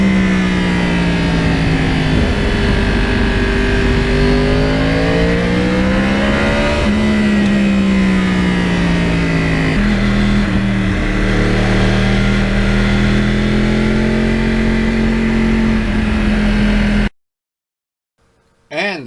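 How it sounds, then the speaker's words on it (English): Yamaha R1 crossplane superbike engine under way on quiet back roads, a loud steady drone whose pitch rises and falls with throttle changes for about seventeen seconds before cutting to near silence. "the sound of the Crossplane, boy, no matter what, that adds such a nice touch to the ride"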